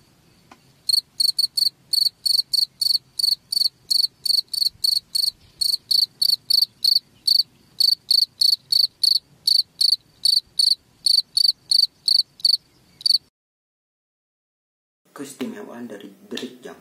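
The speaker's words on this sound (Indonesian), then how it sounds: "Jangkrik berderik menandakan jangkrik tersebut sedang menjaga wilayahnya" Crickets chirp in steady rhythmic bursts, about two per second, for some thirteen seconds, loud and close against a quiet background. Then a brief pause, and a short rustling noise ends it.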